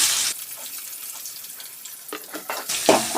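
Cut onions drop into a pan of fried brinjals and sizzle, a soft crackling hiss that fades, then returns in louder bursts with stirring scrapes toward the end.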